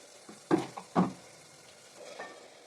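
Spicy Maggi noodles with turmeric, salt and green chillies cooking in a home kitchen pan, with a few distinct scraping stirs of a spoon over a soft, steady sizzle, fairly quiet and with no talk.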